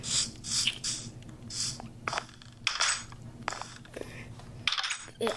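Redstone-powered doors open in Minecraft, a run of soft clicks, clacks and crunchy mechanical thuds in an irregular sequence, fairly quiet and heard without speech.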